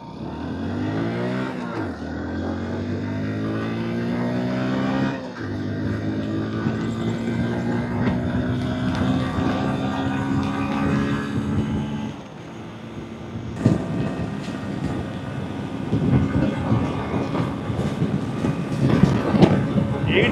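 Hero Splendor Plus motorcycle riding at top speed, its engine rising in pitch through the gears and then holding a steady, loud drone with heavy wind rush.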